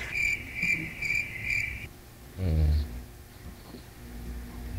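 A cricket chirps in four or five short, evenly spaced trills and then goes quiet. A brief low voice or thump follows.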